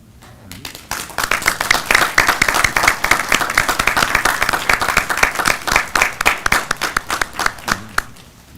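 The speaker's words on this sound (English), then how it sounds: "Let's applaud you." Guests at a Ph.D. hooding ceremony applaud doctoral candidates' families, clapping swelling in quickly, holding strong and dense, then thinning to scattered individual claps before fading out; nearby and fairly loud.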